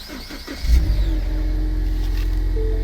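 A 2015 Ford Mustang is switched on, with a brief click and starter crank followed by the engine catching into a steady low idle, close and loud.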